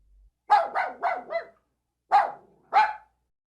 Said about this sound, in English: An old dog followed him.